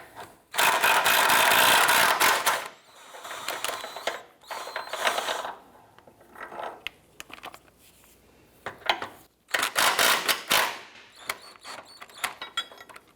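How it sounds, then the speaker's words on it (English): A socket ratchet works on the front transmission mount bolts of a 2004-2008 Acura TL, giving loud, close bursts of rapid clicking as bolts are removed and loosened, with pauses and softer clicks between runs. "we're going to go ahead and remove these two bolts. Actually, we're going to remove this one and loosen this one."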